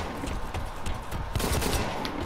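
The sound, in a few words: gunfire from a shooter video game, Blacklight Retribution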